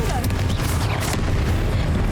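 A Confringo blasting spell explodes in the video game Hogwarts Legacy as a loud, sustained booming roar that fills the whole moment.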